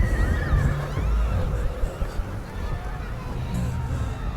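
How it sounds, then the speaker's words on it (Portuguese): A horse whinnies on a farm in an alien-invasion film, its high shrill neigh rising amid a crowded, rumbling mix of film sound and background noise. "Ninguém exceto o cavalo, o sortudo, que OJ vendeu para Rick no início do filme."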